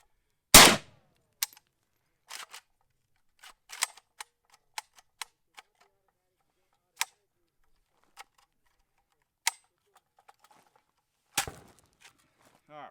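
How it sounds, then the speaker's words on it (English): An AK-47 rifle fires during a torture test, one sharp loud report followed by scattered clicks and clatter of handling, then a second report later, with a voice speaking briefly. "Safety off, firing."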